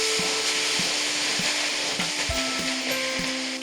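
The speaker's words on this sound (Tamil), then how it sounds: "இப்போ இந்த வெங்காய பூண்டெல்லாம் நல்லா வதங்கிடுச்சு" Onions and garlic sautéing in a pan for a field beans (mochai) kuzhambu, a steady bright sizzle with a few soft knocks of stirring against the pan, close and continuous throughout.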